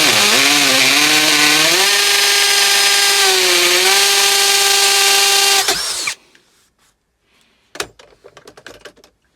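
An Aldi £30 40V combi drill boring through the metal of a kettle, a loud steady motor whine that shifts pitch under load for about six seconds, then stops, followed by a few faint clicks and rattles.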